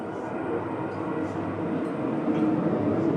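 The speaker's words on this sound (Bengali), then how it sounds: "ট্রেন যাচ্ছে আমাদের ঘরের সামনে থেকে, এত আওয়াজ।" A train rumbles past a house beside the tracks, a steady loud roar that holds throughout with no pauses and no one talking.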